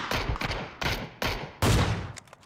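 Gunfire in the PUBG battle-royale video game, several loud bursts of shots in quick succession, each cracking sharply and fading, with a heavier, louder volley near the end.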